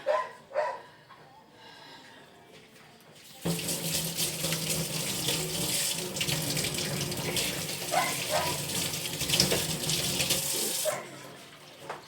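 Tap water runs steadily and fairly close outdoors while dishes are washed, a broad continuous rush with occasional clinks and splashes, stopping near the end; a dog barks briefly in the background.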